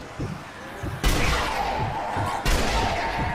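Two loud, sharp sniper rifle shots from the zombie shooter game Zombie Army 2, about a second and a half apart, each followed by a short ringing tail over a low game ambience.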